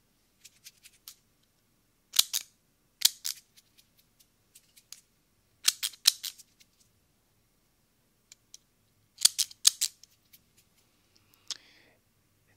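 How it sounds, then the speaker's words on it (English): Crisp snips from a pair of scissors cutting cord, heard close and quiet in short clustered bursts of two or three cuts separated by pauses, with no talk. "Using a different pair of scissors tonight."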